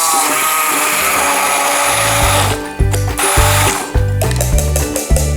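An immersion blender purees roasted peppers, first a steady high whir, then a series of loud, choppy pulses as the motor bogs and revs through the thick mixture, up close.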